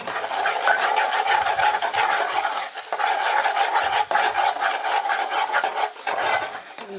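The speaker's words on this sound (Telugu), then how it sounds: "కొద్దిగా ఉప్పు వేసుకోవాలి, కలుపుకోవాలి." Salt being stirred into a spicy egg curry in a pot: a continuous, rhythmic scraping and rubbing of a spoon against the pan, close and fairly loud, with no voices over it.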